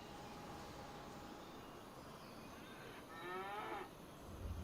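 Cattle in Farming Simulator 25 let out a single drawn-out moo, moderately close, over a quiet farm ambience, with a low thud at the very end.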